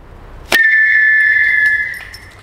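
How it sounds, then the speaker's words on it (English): A historical whistle arrow for blunt-tipped small-game hunting is loosed with a sharp snap, then gives a single clear, high whistling tone that holds for over a second and fades away. "a whistle arrow, right?"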